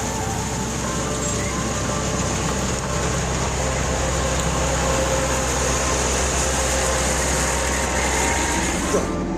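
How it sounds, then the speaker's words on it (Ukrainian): A cab fan in a Massey Ferguson combine harvester blows with a constant whooshing hum, unbroken and fairly loud throughout. "О, вентилятор дується добре."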